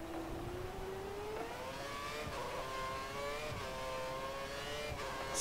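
A Formula One race car engine in F1 2013 holds a steady, high, whining drone, close and continuous. Its pitch shifts slightly through gear changes and throttle lifts in the corners.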